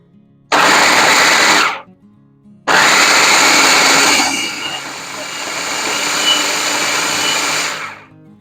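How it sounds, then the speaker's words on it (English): A food processor purees chicken livers for pâté, running loud and steady in two bursts, a short pulse and then a longer continuous whir that eases slightly before stopping. "Start processing the liver, adding the butter piece by piece until incorporated."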